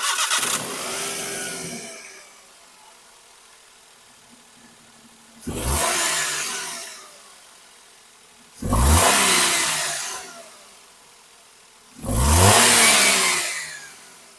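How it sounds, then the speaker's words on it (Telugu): A used Maruti WagonR car engine starting up, then settling into a steady idle broken by three sharp revs that swell and fall away, close and loud. "ఒకసారి స్టార్ట్ చేసి వెహికల్ సంబంధించిన ఇంజిన్ కండిషన్ కూడా చూద్దాం."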